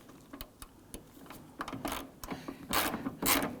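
A ratchet loosens the hood hinge bolts on a 2015–2020 Ford F-150, giving faint, close clicking strokes in uneven bursts that grow louder toward the end.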